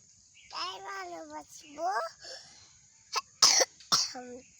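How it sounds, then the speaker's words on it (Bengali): A young girl with a cold coughs several times in quick, sharp bursts near the microphone, following a few moments of her own talking. "তোমার ঠান্ডা লেগেছে হ্যাঁ। তুমি কাশি দিতে পারো হ্যাঁ।"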